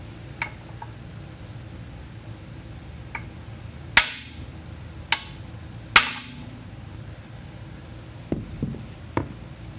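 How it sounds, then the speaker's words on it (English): Steel hammer struck against the face of a second hammer to jar a ball stud loose from a steering linkage: sharp metallic clanks spaced irregularly, two loud ringing blows with lighter taps between, close and without talk. "I just have to strike the face of the other hammer, and that energy is then transferred through the hammerhead to the ball peen."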